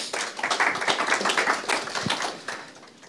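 Applause from an academic conference audience after a talk on geodesic algorithms, a dense patter of many hands clapping at moderate volume for about three seconds and then tailing off.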